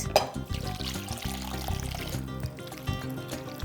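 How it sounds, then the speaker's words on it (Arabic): Cold water poured into a container over fresh mint leaves, lemon and sugar for a summer drink, a close, gurgling pour that runs steadily for several seconds with no one talking. "ديروا الماء بارد ونخلطوه هكا"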